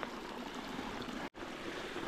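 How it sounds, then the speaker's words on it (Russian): Mountain stream flowing from the forest along a road near Śnieżka in the Sudetes, a faint, steady rushing of water with a brief dropout partway through. "Такой вот ручей течет вдоль дороги."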